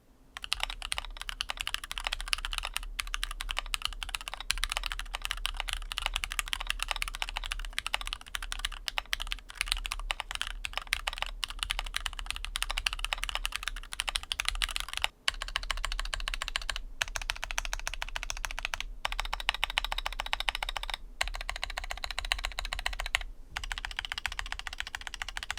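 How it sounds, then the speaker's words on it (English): A Keychron Q8 mechanical keyboard with an Alice layout being typed on during a typing test: fast, continuous clacking keystrokes up close, broken by a few brief pauses, with no talking. "We'll go ahead and just start with the typing test"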